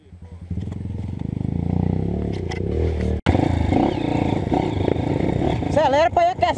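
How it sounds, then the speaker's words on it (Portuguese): Trail motorcycle engine on a slippery hill trail revs up and holds a loud, rough drone close by, briefly cutting out, with voices and other engine noise around it. "Acelera pra ir aquecendo."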